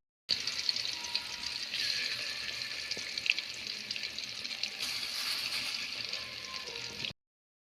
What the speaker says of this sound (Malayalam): ഗ്യാസിൽ വെക്കുന്നതിനെക്കാട്ടും വെളിച്ചെണ്ണ ഒഴിച്ച് നമ്മൾ പൊരിക്കുകയാണ് ചെയ്യുന്നത്.